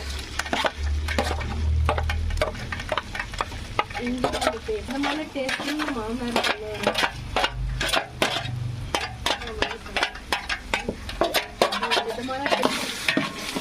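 Garlic paste sizzling in a pan for chicken biryani while a spoon stirs it, with a continuous frying hiss under a run of quick, irregular scraping and clinking strokes, close up, with no voices.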